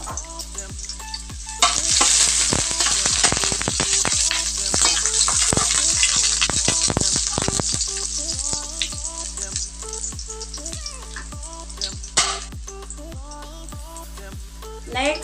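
Garlic dropped into hot oil in a pan, a loud hiss and crackle with rapid spatter pops and stirring clinks, over quiet rhythmic background music.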